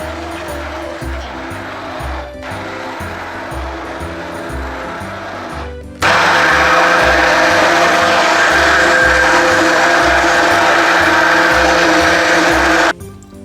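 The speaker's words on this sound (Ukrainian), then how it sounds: "Перебиваємо все в однорідну масу погружним блендером." An immersion blender purees a pumpkin mixture with cheese for a baked casserole, its motor whirring steadily at low power, then jumping to a loud, sustained high-speed roar for several seconds before cutting off.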